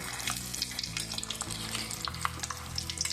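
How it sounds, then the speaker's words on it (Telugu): Puffed rice made from leftover rice fries in hot oil with peanuts in a perforated frying vessel, a close, dense crackling sizzle with stirring scrapes throughout and no voices. "బురుగులన్నీ వేగినాయండి ఇవి పల్లీలు వేసుకున్నాం"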